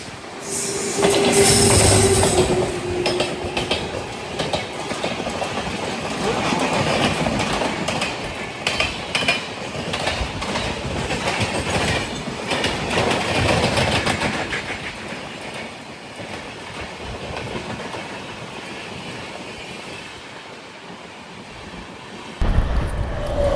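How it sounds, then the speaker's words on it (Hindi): Durg–Bhopal Amarkantak Express departing, a loud near rumble of railcars with rhythmic wheel clatter and a squeal early on, heard from aboard another train. "ये दुर्ग भोपाल अमरकंटक होगी, क्योंकि जस्ट इसका डिपार्चर हुआ था अभी"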